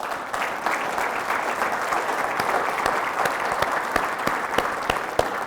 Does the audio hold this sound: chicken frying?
no